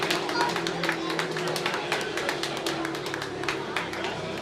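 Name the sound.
round of applause after robot combat match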